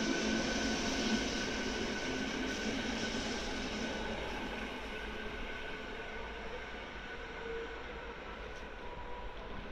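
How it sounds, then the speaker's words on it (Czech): A passenger train at Praha-Podbaba station rumbles steadily through the whole stretch, loud and close at first, then easing slightly, with a broad wheel-and-rail roar, no voices. "A nyní za chvíli nám bude přijíždět osobní vlak do Libně, který bude dále pokračovat do Holešovic."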